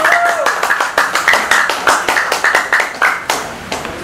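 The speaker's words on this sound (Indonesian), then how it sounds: "Tepuk tangan yang paling meriah untuk Pak Haji Febi" An audience claps for Pak Haji Febi at a community event, producing brisk, loud, fairly rhythmic hand claps that run for about four seconds close to the listener.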